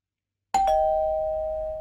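A single electronic doorbell chime sounds after a moment of silence, two quick tones followed by a long ringing fade.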